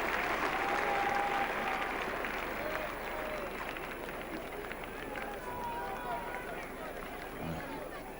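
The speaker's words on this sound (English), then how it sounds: "Most of the applause today has been for Richards, but this time it's certainly for the bowler, Mike Hendrick." Crowd at Lord's cricket ground applauding the bowler during an England versus West Indies Test match in 1980, a broad, moderately distant ripple of clapping with a commentator talking over it.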